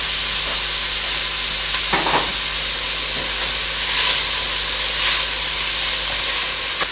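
A pot of slow-cooking spaghetti sauce with chopped celery is stirred, with a constant steamy sizzle and hiss underneath and a couple of soft spoon scrapes and clinks rising briefly above it.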